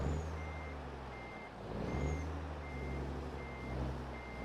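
A heavy truck's reversing alarm from American Truck Simulator beeps at a steady, regular rhythm over a low idling diesel engine rumble, fairly quiet and with no talk.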